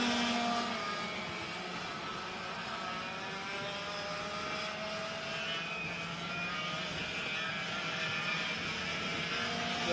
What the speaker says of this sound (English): So all of these carts on track, 100cc, single-speed, air-cooled engines.